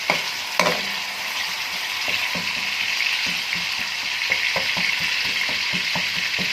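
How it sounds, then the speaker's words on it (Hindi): Ginger garlic paste from frozen cubes fries in oil in a karahi for mutton karahi: a steady, loud sizzle runs throughout, with irregular scraping clicks of a spoon stirring through it and no talking. "जिंजर गार्लिक पेस्ट को फ्राई करेंगे ऑयल में अच्छी तरह"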